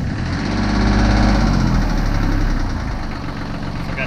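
A Kubota L3010 tractor's diesel engine cranks and fires, then settles into a loud, steady, slightly knocking idle close by, rumbling continuously with no one speaking.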